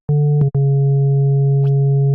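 A pure 140 Hz sine bass tone in an electronic music track drop sounds loud and steady and alone, with a faint higher partial above it and two brief clicks near the start.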